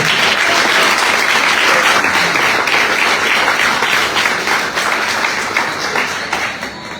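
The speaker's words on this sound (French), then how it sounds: "Applaudissez pour vous." Sustained, loud applause from a large crowd at a cycling tour presentation in Guadeloupe, dense and steady for the full stretch before tapering slightly at the end.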